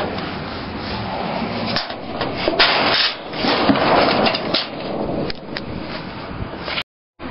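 A piece of wood is sawn in half, giving a rough, irregular rasping and scraping that runs continuously for about seven seconds, close and fairly loud.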